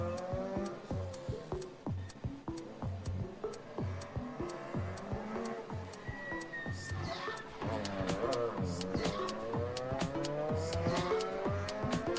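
Rally car on a dry special stage at the Rallye du Chablais, its engine revving hard through repeated gear changes and sharp pops as it approaches and passes fairly distantly, with faint crowd noise around.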